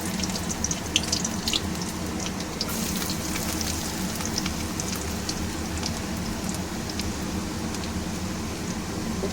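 Chopped garlic sizzling in hot oil tempered with whole cumin, a steady dense frying crackle with no pauses, close and fairly loud, for a spicy lote fish curry.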